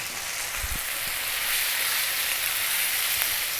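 Potatoes sizzle in a pan with a spoonful of garlic ginger paste, a steady soft broadband crackle that runs the whole time with a couple of low knocks near the start.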